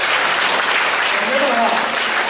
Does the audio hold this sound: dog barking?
no